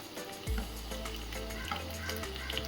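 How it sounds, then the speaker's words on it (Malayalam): Tomatoes, onion and green chilies sauté in a hot pan with a steady, close sizzle and soft crackle, a spatula stirring briefly near the start, with no talking. "തക്കാളി, സവോളയും പച്ചമുളക് നന്നായിട്ട് വഴണ്ട് വരണം"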